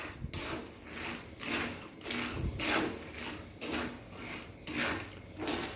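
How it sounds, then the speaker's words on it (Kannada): Peanuts are dry-roasted and stirred in hot salt in a pan, making gritty, rhythmic scraping strokes about once a second, close and fairly soft, with no talking. "ಈಗ ಉಪ್ಪು ಬಿಸಿಯಾಗಿದೆ ಶೇಂಗಾ ಹಾಕ್ತಾಯಿದ್ದೀನಿ ಇನ್ನು ಒಳ್ಳೆ ರೀತಿ ಫ್ರೈ ಮಾಡ್ಕೊಳ್ಳಿ"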